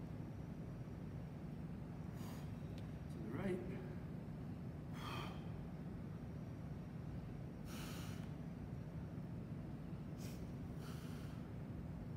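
Faint, sharp breaths in and out during a slow, controlled floor exercise workout. They come every couple of seconds over a steady hiss of background noise.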